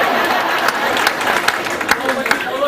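An audience at the Pratishtha Mahotsav celebration applauds with scattered sharp claps that are mixed with crowd chatter and a speaking voice.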